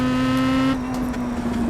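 Pro Mazda open-wheel race car engine driven at Brands Hatch in a racing game, a steady high-pitched whine that drops as the driver shifts or lifts, then rumbles on at a lower pitch, near and loud.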